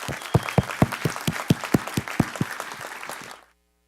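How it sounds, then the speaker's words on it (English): Attendees at a Kubernetes contributor summit give a round of applause for volunteers: a smaller group clapping with a few sharp, distinct nearby claps standing out in a steady rhythm before cutting off abruptly. "One more round of applause."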